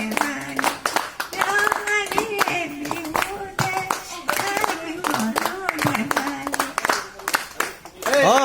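An audience claps along during a Bihu dance performance by Binapani Bora at Pujashree Ashram, with steady rhythmic clapping beneath singing voices and music for the whole stretch.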